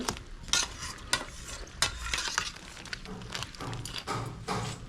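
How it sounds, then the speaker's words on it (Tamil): Crab gravy seasoned with rock salt bubbles in a pot while a spoon stirs it, giving repeated close scraping strokes over a steady simmering hiss. "குழம்பு நல்லா கொதி வந்துட்டு"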